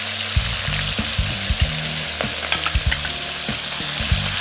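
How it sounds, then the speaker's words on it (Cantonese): Marinated prawns, with the ginger and scallion picked out, sizzle loudly in hot oil in a wok under a constant crackle, broken by repeated clacks and scrapes of a spatula stirring them. "油熱咗之後呢，將啲蝦擺入去。"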